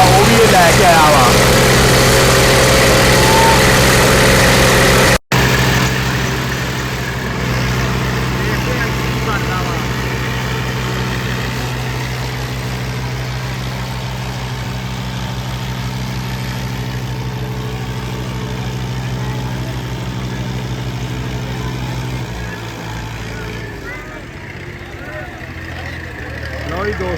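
Tractor engines, including a New Holland 850, rumble steadily at a tractor pulling (tochan) fair, a loud, sustained low drone that eases off later, with someone talking over it throughout.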